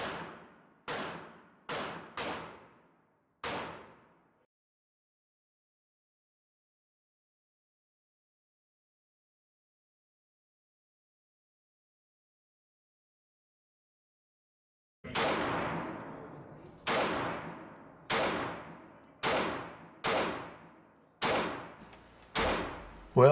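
Taurus PT-709 Slim 9mm semi-auto pistol fired at a target 50 feet away: five sharp shots in quick succession, a long silence, then a steadier string of about nine loud reports, each with a short decaying ring.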